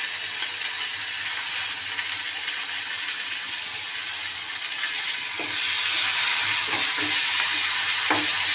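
Spices with salt and turmeric sauté in a pan, giving a steady hiss of frying that grows louder midway, with a few soft scrapes and knocks from stirring near the end.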